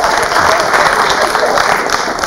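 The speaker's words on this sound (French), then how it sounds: "applaudissements" A loud, dense wash of crowd applause, steady and close, filling the whole stretch with continuous clapping and faint voices mixed in.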